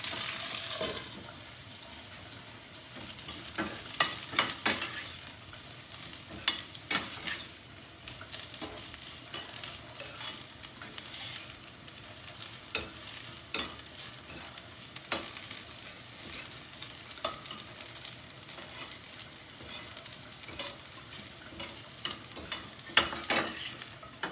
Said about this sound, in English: These potatoes are turning a little golden, but we'll keep on moving them and let them cook for another 4-5 minutes.